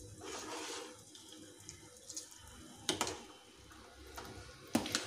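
Water from 80%-cooked rice for veg biryani pours and splashes as it drains through a strainer, a steady running wash near the mic with a few sharper clatters, no talk.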